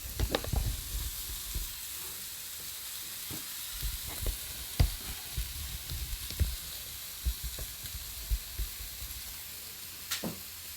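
Food frying in a pan for burritos in a garage, a steady sizzle with frequent sharp crackles and pops throughout, close and moderately quiet, no one talking.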